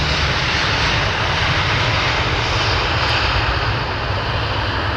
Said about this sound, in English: nice little bit reverser given by that 320